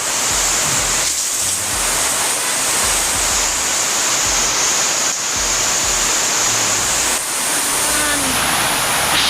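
Steady, loud rushing floodwater pours continuously into a house, a dense hiss of flowing water with faint low rumbles beneath.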